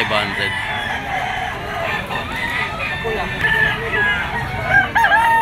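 Roosters crowing amid the bustle of a pet market selling gamefowl, several drawn-out crows rising over a busy background of voices and crowd noise, with the loudest crow near the end.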